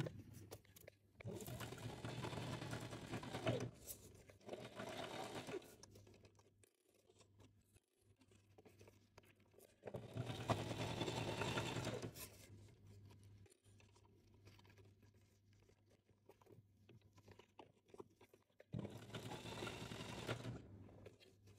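A sewing machine stitches a vinyl pouch in several long runs of steady, close mechanical whirring separated by quiet pauses, with no talking.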